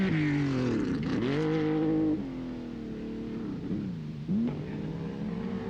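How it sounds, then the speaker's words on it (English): Al-Hajri's Porsche rally car at the Kuwait International Rally, climbing a soft sandy hill with its engine revving hard, the pitch rising and dipping through gear changes and wheelspin, fairly close and then easing off. "is Al-Hajri's Porsche, making sure he gets a good run at the soft sandy section midway up the hill"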